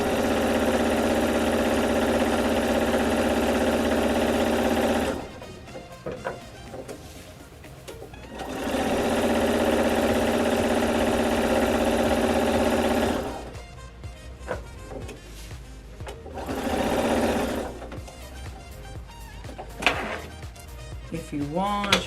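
A sewing machine stitches a zigzag quilting line along polka-dot rows on a bag panel, loud steady whirring runs in two long bursts with a shorter one later, separated by quieter handling noise and brief talk.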